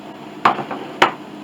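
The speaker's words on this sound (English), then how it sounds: "Need a hammer." Two sharp hammer blows land about half a second apart during the rebuild of a Mason & Hamlin CC piano, each a loud, close knock over faint background hiss.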